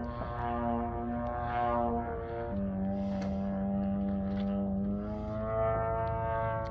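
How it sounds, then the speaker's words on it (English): A stunt plane at an air show drones overhead trailing smoke, a buzzing engine tone shifting pitch in steps as it climbs, dives and loops, continuous and moderately loud. "That's a plane."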